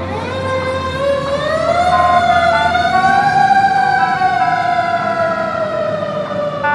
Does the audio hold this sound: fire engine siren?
yes